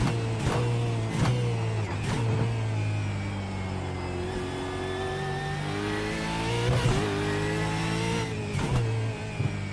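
A Gen 3 Supercar in the iRacing sim revs and accelerates through repeated gear shifts, its steady engine drone climbing in pitch and dropping back at each change, loud and close throughout.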